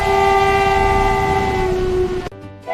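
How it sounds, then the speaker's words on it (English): A big train approaches, its loud, sustained horn blaring over the rumble and clatter of the rail cars before cutting off abruptly near the end, with no speech. "Look, a big train is coming."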